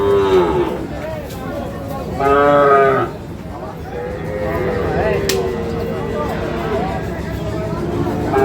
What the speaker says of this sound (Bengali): সাইবল জাতের বাছুর গরুগুলোকে